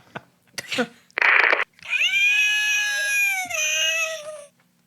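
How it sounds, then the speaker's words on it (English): A cat meows several times in a studio during a guitar interview, a short cry followed by a long, drawn-out wailing meow, loud and close, with brief noises before it. "Is that a cat?"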